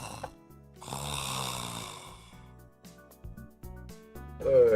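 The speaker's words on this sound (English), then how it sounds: "I heard our father snoring coming from the back room." A father snores in the back room in the video game SINce Memories: Off the Starry Sky, long rasping breaths rising and falling alone, fairly close and steady.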